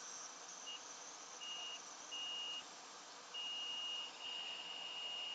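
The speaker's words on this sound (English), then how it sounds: "multimeter just in continuity mode. One probe on each side of the fuse. Listen for the beep." A multimeter in continuity mode with its probes across a fuse on a PS4 Pro board, giving a thin, steady electronic tone in several short-to-long bursts with gaps, faint over low room hiss.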